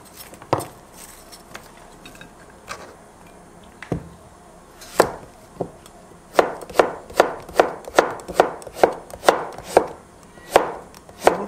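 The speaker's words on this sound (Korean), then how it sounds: "양파 썰어주시고요" Knife slicing an onion on a cutting board, a few scattered chops and then a steady run of about a dozen crisp, evenly spaced cuts, close and clear with no talk.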